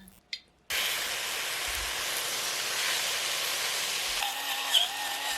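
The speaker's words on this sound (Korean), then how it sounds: "소금 넣고 양파가 타지 않게 천천히 볶아줄게요" Steady broadband sizzling hiss of sliced onions sautéing in oil in a pot, continuous and close, beginning abruptly after a brief quiet moment.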